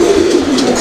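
A farm pigeon gives a single low, throaty coo, close and loud, with a faint murmur of background talk.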